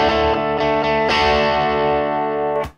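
An electric guitar through a Marshall BB-2 Bluesbreaker 2 pedal, strummed hard so the amp breaks up into a thick, sustained distorted chord with a few re-strikes, loud and close, then cut off abruptly.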